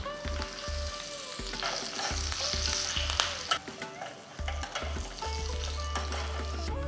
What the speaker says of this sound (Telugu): నూనె బాగా వేడెక్కిన తర్వాత దీంట్లో కొద్దిగా ఆవాలు కొద్దిగా జీలకర్ర ఒక ఎండుమిర్చి కొద్దిగా ఇంగువ